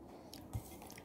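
One short bite with soft chewing on spaghetti during a home meal, a close, quiet mouth sound with a single firmer crunch near the middle and no talking.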